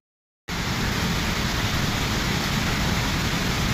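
Heavy rain with strong wind, a dense steady roar that starts abruptly after a brief silence and holds loud and unbroken to the end, with no voices.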